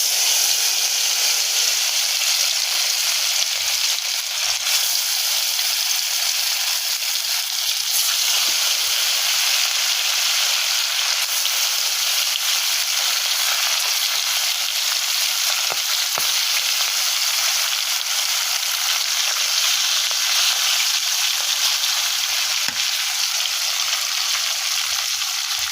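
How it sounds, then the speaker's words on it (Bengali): Carp and snakehead fish frying in hot oil in a village kitchen, a loud dense sizzle that crackles and hisses continuously without pause, close by and alone with no voices. "তো তেলটা গরম হয়ে গেছে, আমি মাছগুলো দিয়ে দিচ্ছি।"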